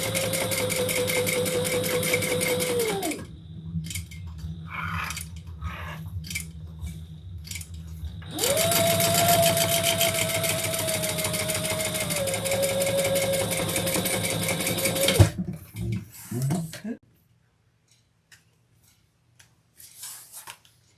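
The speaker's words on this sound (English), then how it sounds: "And I'll be back stitching. I love double-sided leather." A sewing machine back-stitches double-sided leather for a leather messenger bag, running in two sustained bursts with a short pause between, then stopping as the room falls nearly silent.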